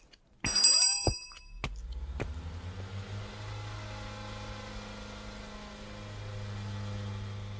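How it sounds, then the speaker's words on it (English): A truck engine cranks with a sharp metallic clatter and catches, then settles into a low, steady idle rumble close by that continues to the end, with a slight rise near the finish and no speech. "I'll start up the truck."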